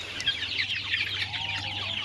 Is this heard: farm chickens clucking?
yes